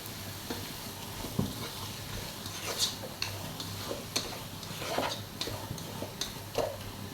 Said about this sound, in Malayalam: ഞാനിപ്പോൾ ഇവിടെ ഒരു വലിയ 3 തക്കാളി എടുത്തിട്ട് അതിലോട്ട് ചേർത്ത് കൊടുക്കാം. നന്നായി മിക്സ് ചെയ്യുക.